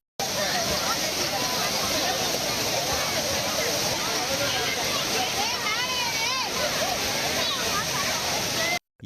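Thirparappu waterfall in Kanyakumari district pours with a dense, continuous roar as crowds of tourists and pilgrims bathe, with splashes and distant voices mixed in.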